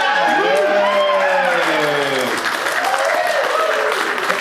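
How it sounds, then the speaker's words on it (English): Audience at a prize draw claps together in a sustained burst of applause, dense and fairly loud throughout, with a few cheers and voices mixed into the crowd. "Round of applause, please."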